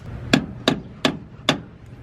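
A hammer striking a car's lower control arm on a V12 Aston Martin, five sharp metallic blows evenly spaced, close and loud with no talking.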